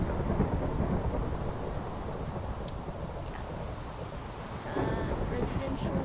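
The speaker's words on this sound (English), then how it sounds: "I don't like the rain." Rain pours and thunder rumbles steadily in the Minecraft video game, a loud, continuous wash of storm noise with a brief crackle of thunder, no voices heard.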